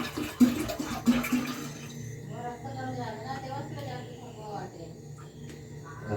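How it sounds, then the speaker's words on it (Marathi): Cow urine is poured into water in a 10-litre sprayer pump, giving a gurgling, trickling liquid pour close by that fades to softer splashing, with a voice talking over it. "आता हे टाकलंय मी सगळं आपलं गोमूत्र"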